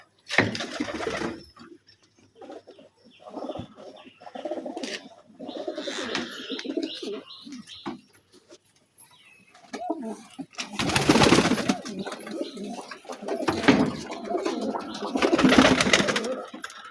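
Pigeons at a pigeon loft in the morning, with soft repeated cooing and scattered chirps close by, alongside rustling, wing flutter and bursts of broadband noise from movement around the loft.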